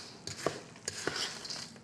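Pickles are stirred in a cup with a utensil, giving a handful of soft scraping taps and clinks against the cup's sides, close and fairly quiet, with no talking.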